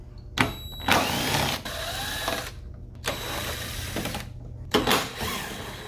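A 10 mm ratchet works a bolt loose on a Ford Edge during front bumper and headlight removal, giving several short bursts of close mechanical clicking separated by brief pauses.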